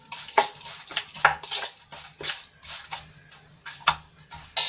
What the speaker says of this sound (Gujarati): હવે મસાલો સરસ રીતે મિક્સ કરી લઈશું